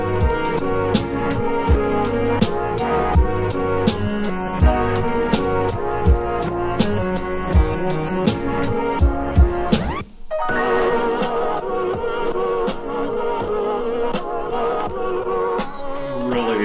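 An instrumental hip-hop track with electronic elements plays from a vinyl record as a steady, dense beat with layered melodic parts, briefly dropping out around the middle before continuing with no talking.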